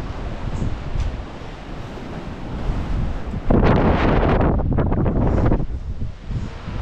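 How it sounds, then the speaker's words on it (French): Strong, gusty storm wind buffets the microphone outdoors by a farm shed after morning rain. A steady roar swells into a louder, harsher gust midway, then eases again, with no voices. "Il y a du vent"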